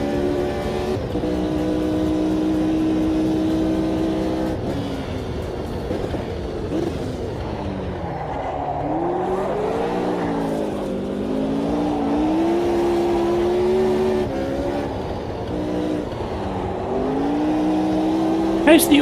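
Historic open-wheel race car engine in Automobilista 2, droning steadily, then revving up and down through gear changes, loud throughout with someone talking over it.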